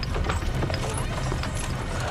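Horse hooves of a wagon caravan heading west in 1846, a busy clip-clop of several animals moving steadily, mid-distance and moderately loud, mixed with rolling wagon noise.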